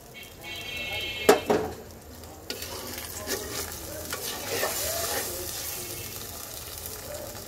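Fried kaikla fish being stirred into a tomato and eggplant curry, with a loud spoon scrape and clatter against the pan over a steady sizzle that runs throughout.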